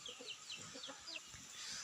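Chickens kept on a farm with no neighbors nearby give soft, short clucks, faint and brief against a quiet outdoor background.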